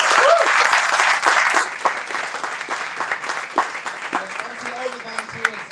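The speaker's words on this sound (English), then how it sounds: "That deserves a round of applause." Audience applause at a ShoutOut annual report launch: a full round of clapping that starts loud and dense, then thins into scattered claps over about five seconds, with faint voices underneath.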